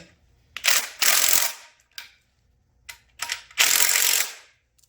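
Ratchet wrench tightening timing cover bolts on a GM LS V8 engine during a heads and camshaft swap, heard as several bursts of rapid clicking pawl strokes, close and loud, with short pauses between them.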